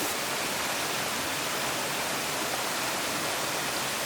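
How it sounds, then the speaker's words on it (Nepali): A waterfall near a hill village on the Mechi river pours in a dense, even, hissing roar, loud and unbroken, with no voices. "सुन्दर झरना चाहिँ अवश्य पनि छ।"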